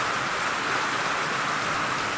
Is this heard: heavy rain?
yes